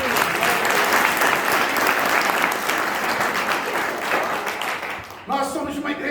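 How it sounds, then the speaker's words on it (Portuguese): A church congregation applauding, dense sustained clapping filling the space, with a voice and music emerging as the applause fades near the end. "Você pode aplaudir o Senhor?"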